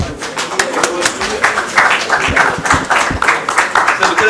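Conference audience at a robotic thoracic surgery event clapping in a dense, continuous burst of applause, close and fairly loud, with talking mixed in.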